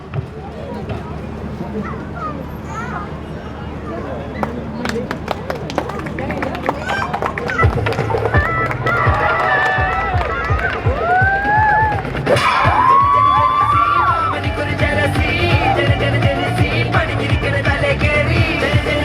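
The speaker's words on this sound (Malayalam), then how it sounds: "നല്ലൊരു കയ്യടി കൊടുക്കാട്ടോ" An audience at an event in Dubai breaks into applause and cheering, swelling partway through and mixing with whoops, while people talk over it.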